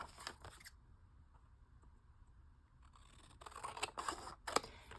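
Scissors trim paper ephemera for a junk journal, with a few quiet snips and crisp paper rustles at the start and a clustered run of sharp cuts near the end, separated by near-silence.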